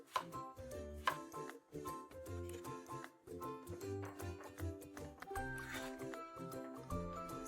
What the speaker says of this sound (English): Cut the eggplant into pieces.